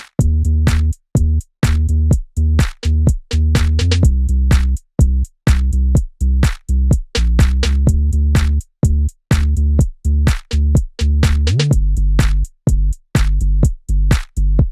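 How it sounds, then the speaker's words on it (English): Loud, full mix of the drum groove from a song with a deep, sustained bass line laid over it, beats cutting through in a steady rhythm and brief drops between phrases. "And on top of those drums, I added in this bass line."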